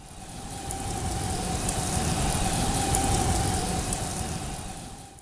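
A Skyrim frost spell effect: a sizzling, glassy hiss over a low rumbling body and a steady ringing tone, swelling and fading over about five seconds.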